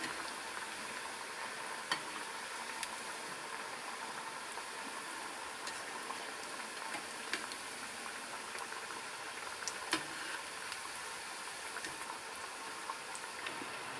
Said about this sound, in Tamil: வடை சேர்த்ததுக்கப்புறம் மிதமான தீயில் வச்சு வடையை நல்லா சுட்டு எடுக்கணும்.